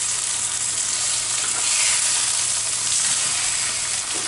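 Thin-cut pork chops searing in a hot pan, a loud continuous sizzle with a faint crackle, close and steady with a slight swell partway through.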